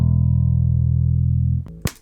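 A chord on a Fender Bass VI rings out as a steady, deep, sustained tone, then cuts off abruptly, followed by a brief sharp click.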